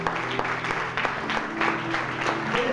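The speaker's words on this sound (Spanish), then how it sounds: "Dele palmas al Señor." A church congregation claps together at a sermon, a steady patter of many hands ringing through the hall at moderate distance, with an organ or keyboard chord sustained underneath.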